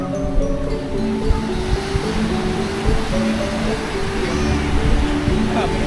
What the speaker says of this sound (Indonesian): kita telah sampai di area Pantai Wedi Ombo